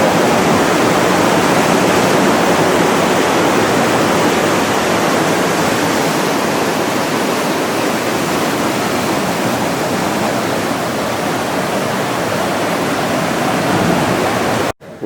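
Ocean surf on the coast of Hawaii's Big Island, waves crashing in hard enough to throw salt water into a pool, heard as a loud, steady wash of broadband roar that continues unbroken and cuts off abruptly at the end.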